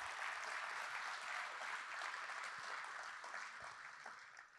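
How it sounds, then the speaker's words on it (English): Steady applause from a crowd of insurance agents at a motivational talk, a dense wash of many hands clapping continuously throughout, fairly distant and even, tapering slightly at the end. "Come on, clap your hands."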